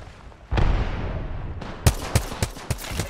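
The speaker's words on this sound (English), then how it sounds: "Opening fire on the enemy." Apex Legends gunfire: a heavy burst of shots opens the sequence, then four sharp, loud cracks follow in quick succession, close and punchy, with no talking.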